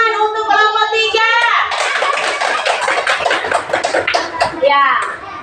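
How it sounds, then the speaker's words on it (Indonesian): Classroom applause for a student discussion group that has just presented, a burst of children's hand clapping starting about a second and a half in and continuing steadily, mixed with kids' chatter and talk throughout. "tepuk tangan untuk kelompok 3"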